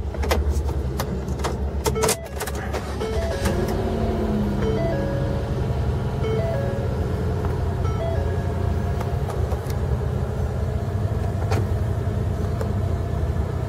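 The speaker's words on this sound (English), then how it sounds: "Let's put the key in and crank her up." The engine of a 2012 Ford Escape Limited cranks and catches, then settles into a steady low idle, with a few sharp clicks and chimes at the start before the even rumble continues alone.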